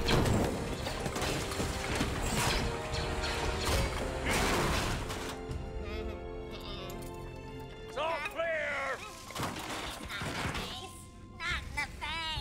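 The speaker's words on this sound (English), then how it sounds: "Time to release the wrecking ball!" A wrecking ball mechanism is released in the animated Clone Wars series, with mechanical ratcheting, creaking and clanking that builds into crashing impacts and squealing metal, partly under voices.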